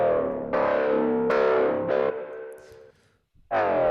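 Foghorn synthesized in Serum and saturated with Decapitator: several deep, buzzing, distorted horn blasts of varying length, loud and alone, with a brief silent gap before a final blast.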